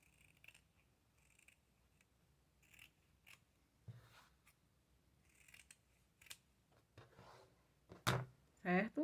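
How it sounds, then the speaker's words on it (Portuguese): Scissors cutting fabric along a marked line while sewing a giraffe toy, a series of crisp snipping strokes with pauses between, growing louder toward the end, with a brief spoken word. "nós vamos cortar em cima do risco"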